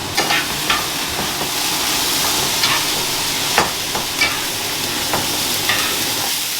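Egg whites seasoned with salt and garlic powder simmer in a pan with a steady, close sizzle, broken by occasional scraping stirs and soft clicks, with no voices.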